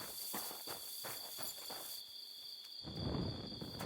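Horse hooves clopping in Kingdom Come Deliverance 2, a run of soft regular steps over a steady high insect-like hum, growing louder and denser toward the end, with no talking.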